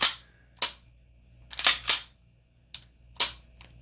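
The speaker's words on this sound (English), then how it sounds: "it allows me to push it all the way in, and I can let go of the slide" American Tactical Titan .45 ACP pistol being handled during reassembly, with sharp metallic clacks and snaps, a few single hits and a quick double, ending with a soft tick, close and loud in a quiet room.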